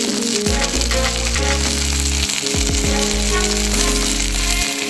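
Ginger paste sizzling in a pan with onions already fried deep red, a steady loud fry for a Bengali muri ghonto, with clinks and stirring knocks breaking through the continuous crackle.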